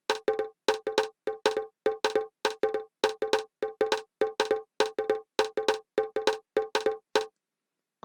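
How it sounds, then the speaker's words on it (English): A 707 rim percussion sample loops in an Afro swing beat, sharp, bright, clicky hits repeating in a steady syncopated pattern for about seven seconds, dry and close with no voices. "which I also got from the percussion 707 rim."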